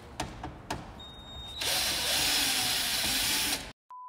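A power drill bores holes to mount car license plates, first a few short clicks and taps, then a steady, loud, close whirring run that cuts off abruptly, followed by a brief tone.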